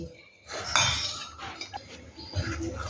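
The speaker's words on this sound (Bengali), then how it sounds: "দিয়ে এই গোলাটাকে আমি ভালো করে মিশিয়ে নিচ্ছি" A utensil clinks and scrapes against a bowl while besan batter is mixed for chilla, giving a few close, bright knocks and short scraping strokes.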